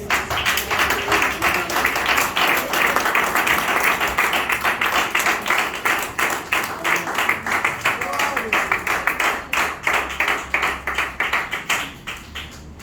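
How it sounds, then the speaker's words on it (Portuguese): A church congregation claps along in praise, rhythmic, fairly loud group handclaps in a steady beat that turn more distinct and spaced near the end, with a voice speaking over them. "Sempre glorifica com as palmas."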